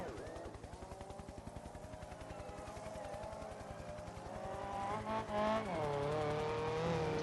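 Open-wheel Formula Ibishu 1500 race cars at Lime Rock Park in a racing game drone with a buzzing, pulsing engine note, then a rising screech and skid as one slides off the track, louder near the end.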